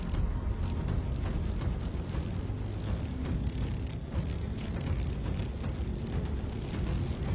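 Ship guns fire in the space game Star Citizen during a pirate attack on a Starlifter, a heavy, continuous rumbling roar of blasts with no clear gaps.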